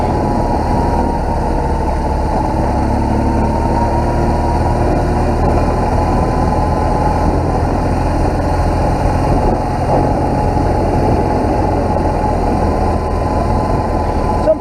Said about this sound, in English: I love this bike, but it just sort of sounds like a tractor most of the time.